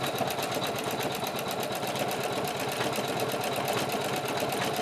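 An embroidery machine stitches medium pink thread onto a front vestment panel, a fast, steady mechanical rattle with a regular needle rhythm, loud and close and continuous, with no voices.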